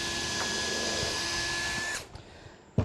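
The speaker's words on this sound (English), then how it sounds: "So we're just going to drill a hole here." Power drill boring a hole through a drill bushing, a steady loud whine held for about two seconds before cutting off, followed by a sharp knock near the end.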